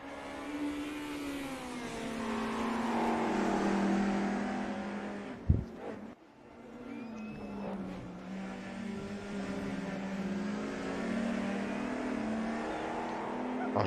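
Touring car engines in a racing video game, a loud continuous high-revving drone rising and falling through gear shifts, with a sharp gear-change break midway and a commentator's voice faintly underneath.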